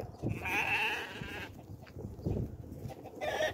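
Young goat kid bleating in a farm setting, a couple of wavering cries close by at moderate loudness, with faint rustling and other animal noise in the background.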